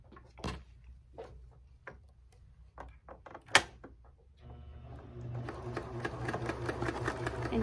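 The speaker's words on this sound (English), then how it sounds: "Let's get sewing here." Sewing machine stitching along the edge of a needlepoint stocking, a few isolated clicks and taps at first, then a steady, continuous mechanical whirr of stitching that builds and runs to the end.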